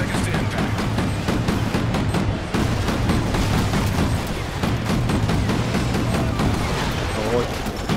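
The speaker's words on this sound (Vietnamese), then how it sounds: "Giờ là chỉ có cái súng phóng lựu của Stan này" Grenade launcher fire in Call of Duty: Ghosts comes as a dense barrage of booms and gunfire, with continuous battle noise throughout and someone talking over it.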